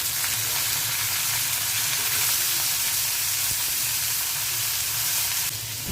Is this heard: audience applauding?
no